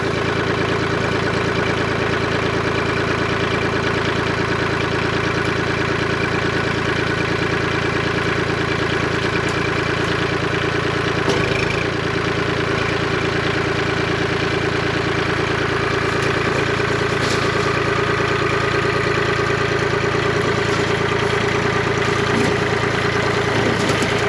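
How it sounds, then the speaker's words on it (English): A tractor engine runs at a steady, loud, throbbing idle up close while pulling down a wall of a 140-year-old farmhouse, with no clear crash or break standing out. "So I get the tractor, back it up real gentle like, and start pulling that off"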